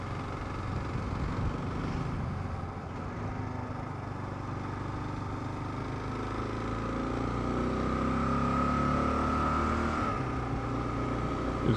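Kawasaki KLR650 single-cylinder motorcycle engine climbing a hill on the Remutaka road, a steady sustained drone with rising pitch toward the end, continuous and close with wind noise around it.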